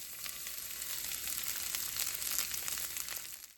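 Chopped yellow onion sizzles in vegetable oil in a pan over medium heat for a balti chicken, a steady, close, dense crackle that holds at an even level throughout.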